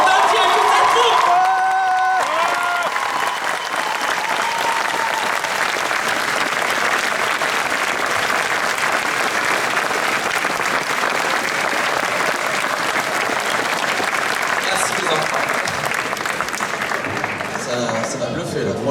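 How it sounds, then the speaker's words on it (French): A convention show audience gives a long standing ovation, dense sustained applause with cheering and whoops filling the hall, loud and continuous after a brief moment of voices at the start. "j'ai encore envie de te redemander une ovation et un tonnerre d'applaudissements pour Nadia et toute cette troupe"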